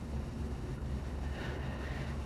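Wind blowing steadily outdoors on a rainy, chilly day, a continuous low rumbling gust noise buffeting the microphone throughout with no talk.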